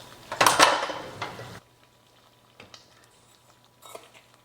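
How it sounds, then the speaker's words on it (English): Sugar poured and measured into a kitchen container with a rattling, clattering rush of granules and utensil clinks, loud at first, then a few faint taps and knocks. "I'm gonna measure it one more time into here, just to make sure I measured out the correct amount"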